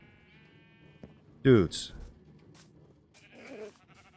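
Sheep bleat in the Minecraft video game, two short wavering cries standing out clearly over a quiet background, while someone speaks briefly around them.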